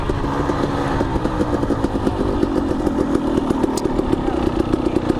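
A bunch of motorcycles, likely dirt bikes, rides past on a trail with a rough, continuous buzzing engine drone and rapid rattling beats, close and loud, steady throughout without clear voices.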